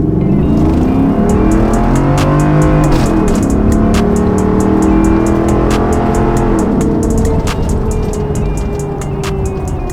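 A lifted Ford F150 with a 5.0 V8 on an E85 performance tune revs hard toward redline, a loud sustained engine roar rising and falling in pitch across the whole stretch, close by and without talk.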